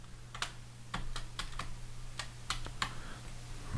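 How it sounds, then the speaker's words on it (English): Keys clack on a computer keyboard in a sparse, irregular run of crisp taps, including a press of the caps lock, close and fairly quiet over a low steady hum. "So I'm gonna go ahead and hit the caps lock"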